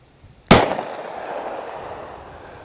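A single loud, sharp shot from a Sig P365 pistol firing 115 grain 9mm V Crown ammunition, a sudden crack followed by a fading ringing tail.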